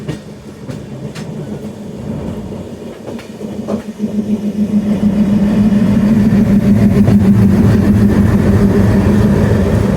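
An ALCO diesel locomotive engine idles with a deep, steady throbbing drone that grows louder and fuller partway through, joined by faint rail clatter and a few metallic clicks.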